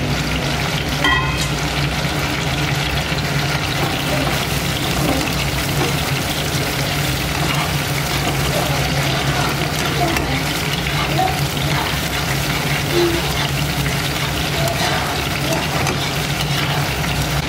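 Chopped onions fry in a hot pan with a steady, close sizzle and spatter, joined by occasional scraping of a utensil and a low background hum.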